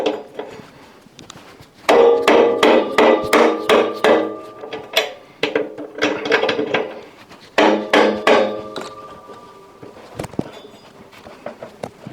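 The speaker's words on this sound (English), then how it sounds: "Now I'm undoing the bolt in the center of the pulley wheel." A bolt in the centre of the pulley wheel on a built-in integrated Bosch washing machine is worked loose, giving bursts of rapid, close metallic knocks and ratcheting taps separated by short pauses.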